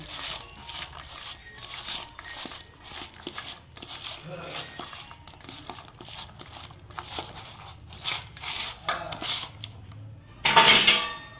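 Chicken momo filling is worked by hand in a bowl, giving soft squelching and light clinks of the bowl under steady talking, ending with a louder clatter.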